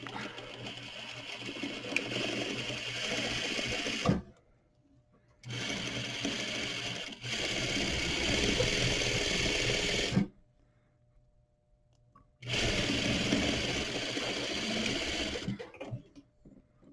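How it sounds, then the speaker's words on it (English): A sewing machine stitches a half-inch seam with back tacks on a bias-bound seam sample, running in three loud, steady bursts separated by short pauses, with no talking. "We're stitching that 1/2 inch seam allowance, and I'm going to back tack going in,"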